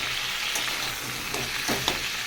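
Potatoes, stems and pointed gourd fry in hot oil with a steady close sizzle, broken by a few soft stirring clicks and scrapes, no voices.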